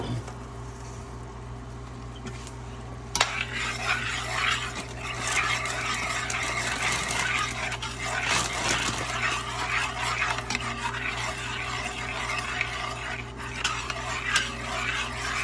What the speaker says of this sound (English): So he's just stirring that in, just kind of melting that soup a little bit.